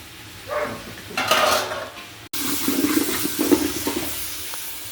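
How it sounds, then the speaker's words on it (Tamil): Curry leaves, mint and coriander are rinsed under running water in a kitchen, with splashing and rushing water in uneven bursts, brief and fairly close, and no talking. "கருவேப்பிலை, இல்லை புதினா, கொத்தமல்லி எல்லாம் கழுவி வாஷ் பண்ணி வச்சுக்கலாம்."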